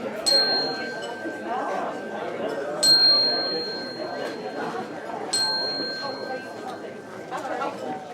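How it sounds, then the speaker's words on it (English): A bell rings three times at a church brunch, each strike bright and ringing before fading, heard under steady chatter from people talking nearby. "like me if you heard the bell."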